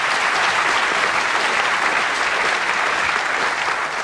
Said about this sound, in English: let's give a round of applause to Neil right away